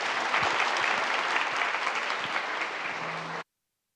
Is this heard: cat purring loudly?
no